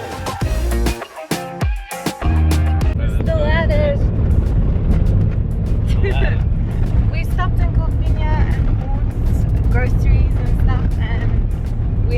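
A car drives along a long, straight dirt road through the Tankwa Karoo, giving a loud, steady rumble of engine and tyres, broken up by bumps at the start, with people talking over it throughout.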